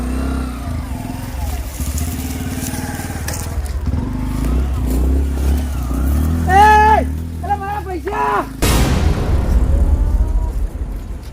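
A motorcycle engine bursts into life and keeps running loud and close, following a stretch of people talking over a low rumble.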